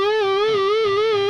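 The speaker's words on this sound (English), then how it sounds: "Get it to where the overdrive or the distortion you're using is carrying the whole thing, and it sounds super aggressive and crazy." Electric guitar lead with heavy overdrive distortion in a hard rock style, a single sustained note held with wide, even vibrato, loud and alone.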